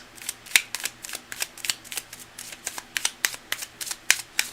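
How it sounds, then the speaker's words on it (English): Reading cards are shuffled in a long run of quick, crisp riffles and snaps, about two per second, close and clear with no talking. "amuse yourselves while I shuffle up and get things cut and ready for Tina."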